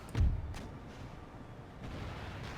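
Cannon artillery firing in Empire Total War (Darthmod): one deep, booming shot, then a low rumbling battlefield bed.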